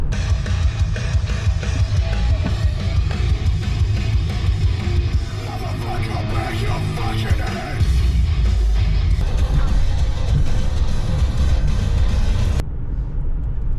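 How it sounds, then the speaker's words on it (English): A car rolls along a road on a long winter drive through Vermont, its steady low engine and road rumble continuous and close throughout, cutting off abruptly near the end. "So we're about an hour in on our drive."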